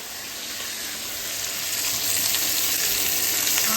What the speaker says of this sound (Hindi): गाजर और प्याज सौते करने के बाद इसमें डालेंगे शिमला मिर्च और बंद गोभी।